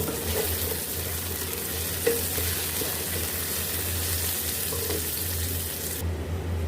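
Continuous low sizzle of crushed garlic and ginger paste frying in oil, with faint stirring and one soft clink, cutting out abruptly near the end.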